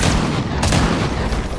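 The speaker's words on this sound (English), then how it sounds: "I'm just shooting, like, because I saw someone" Continuous loud gunfire in an Unreal-engine style shooter video game, a dense burst of rapid shots filling the whole short moment with booming, crackling impacts.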